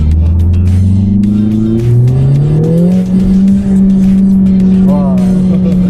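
A Mercedes-AMG A45 S hatchback accelerates hard, its engine note climbing loudly and steadily, then holding at a high, smooth drone close by.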